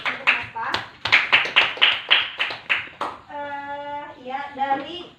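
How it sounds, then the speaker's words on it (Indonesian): A classroom of children claps hands in a steady rhythmic pattern of about ten sharp bursts during an Islamic studies lesson on the Qur'an, then the class breaks into loud voices and chanting. "Kita beri tepuk tangan untuk apa?"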